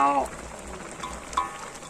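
Thai termite mushroom curry bubbles and simmers in a pot, a steady wet crackling hiss throughout, with a brief voice near the start.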